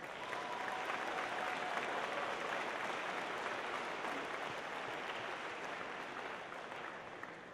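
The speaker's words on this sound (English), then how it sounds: "Let's give them a round of applause" Sustained applause from a crowd at a FIRST robotics district event opening ceremony, thanking the volunteers, a dense steady wash of clapping that holds evenly for several seconds and eases slightly near the end.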